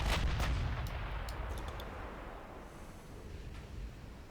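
Naval artillery shells fire from a warship in a dreadnought video game, a heavy booming blast at the start that rolls into a long decaying rumble, with a few faint sharp cracks overhead.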